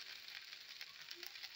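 Sago malpua batter frying in hot white oil in a pan, giving a faint, steady, even sizzle that continues without a break.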